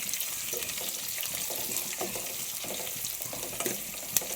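Onions frying and stirred in a pan for a lentil dish, a steady close sizzle broken by repeated scraping strokes of a spoon and one sharp clack near the end.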